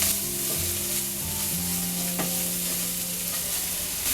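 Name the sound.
ginger green chili paste frying in a pan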